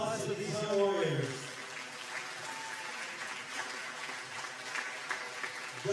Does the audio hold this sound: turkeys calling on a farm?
no